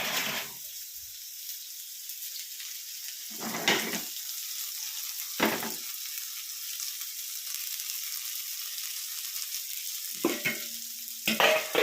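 Fish frying in a pan gives a steady, fairly quiet hiss and sizzle throughout, broken by a few short louder clatters or stirs, with no one speaking.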